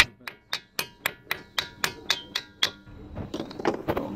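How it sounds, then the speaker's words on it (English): Rapid, evenly spaced metal hammer blows, about a dozen sharp ringing strikes, hammering a concentric clutch slave cylinder part into place on a Renault Megane 2, followed by scraping and shuffling of parts. "I just hammer this down."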